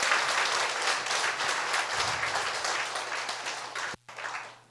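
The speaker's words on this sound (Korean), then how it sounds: "하나님께 감사 박수 보내겠습니다." A church congregation at a revival gospel meeting claps together in a dense, sustained round of applause, loud and close, breaking off briefly near the end before a little more clapping resumes.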